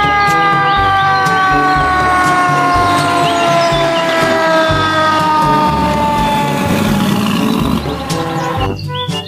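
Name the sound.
toy fire engine siren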